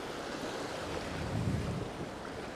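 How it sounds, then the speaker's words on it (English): The Chippewa River rushes along on its way to Lake Superior, a broad, steady wash of flowing water mixed with wind buffeting the microphone, loud and continuous with no voices. "Chippewa is one of those many lovely rivers that flows to Lake Superior"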